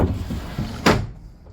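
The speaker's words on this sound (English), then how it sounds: "and the sliding companionway hatch, very light, simple." A light sliding companionway hatch on a 2018 Beneteau Oceanis 38.1 sailboat makes a single quick, close slide-and-thud near the end of a short stretch.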